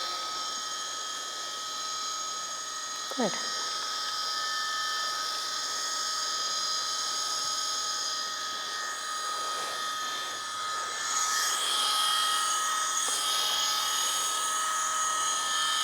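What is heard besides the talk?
Dremel rotary tool running for dog nail grinding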